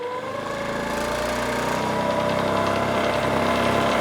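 A belt-driven Goodell-Pratt drill press motor runs steadily and loud, its hum and whine rising slightly as it speeds up, with a continuous mechanical vibration throughout.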